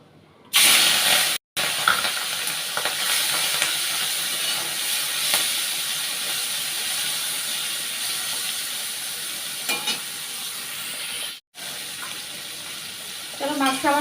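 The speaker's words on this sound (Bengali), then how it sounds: "চলো চিংড়ি মাছটা ভেজে নিই" Prawns sizzle steadily while frying in a pan in a home kitchen, a continuous loud crackling hiss with brief gaps and faint clinks near the end.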